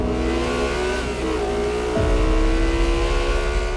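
A Lexus LFA supercar engine revs hard, its high, shrieking exhaust note climbing and then dropping sharply before settling into a rougher, pulsing rumble, loud and close.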